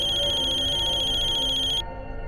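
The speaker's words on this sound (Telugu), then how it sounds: "వీరేన్ ఫోన్ రింగ్ అవుతుంది" A mobile phone ringtone rings loudly and steadily as a repeating electronic tone, then cuts off abruptly near the end, leaving only quiet background.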